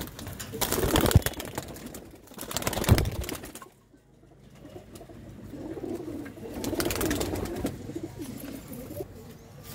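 A golden pigeon coos among other pigeons at a Ludhiana sale, with sharp fluttering bursts early on and softer cooing later, fairly close.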